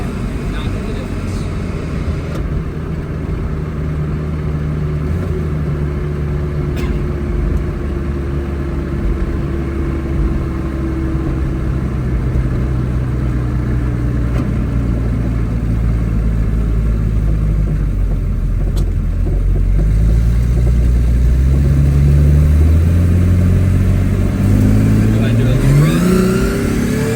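An all-wheel-drive car with a 2JZ engine cruises along with a loud, steady engine drone heard from inside, its pitch holding and drifting before climbing sharply as the engine revs up near the end.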